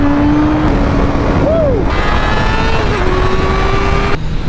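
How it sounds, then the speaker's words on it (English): A 2021 Honda CBR 1000RR motorcycle engine on a test ride, a loud sustained whine with clear rising and falling pitch sweeps as the revs change, close and dominating throughout. "today we're test riding in 2021 Honda CBR 1000"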